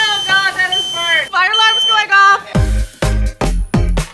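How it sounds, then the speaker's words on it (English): A home smoke alarm shrieks in loud, repeated piercing beeps, first under a person's excited talk and then in sharp bursts that pulse on and off close by. "fire alarm's going off"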